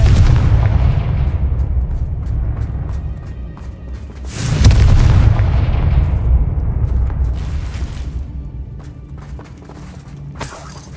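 A Confringo spell blast in the Hogwarts Legacy video game, a loud booming burst around the middle over a steady rumbling game backdrop, with sharp shattering cracks and smaller impacts scattered before and after it.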